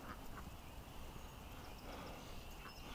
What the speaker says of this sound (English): The little duck from the barn is running around the yard seriously upset.